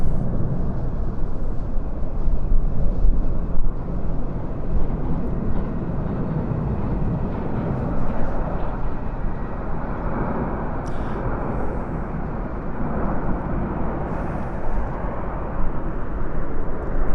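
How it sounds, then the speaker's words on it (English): Red Arrows aerobatic jets pass over London, producing a loud, steady broadband roar that persists throughout, with a faint murmur of voices beneath it. "And here they are, the famous Red Arrows."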